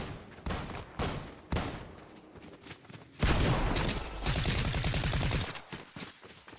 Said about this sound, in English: Just trying to shoot him with an SMG halfway across the map